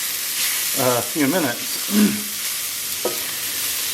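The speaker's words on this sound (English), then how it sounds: "we can keep frying it like this" Onions frying in a pan for a Lithuanian Christmas Eve herring salad, a steady close sizzle and hiss running throughout while a person talks briefly over it.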